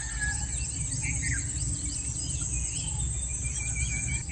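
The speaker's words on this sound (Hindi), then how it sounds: "एक तो शांति, ऊपर से चिड़ियाँ की आवाज़ आ रही है" Scattered bird chirps and short calls sound over a steady high insect drone in a quiet outdoor setting near Ranchi, Jharkhand.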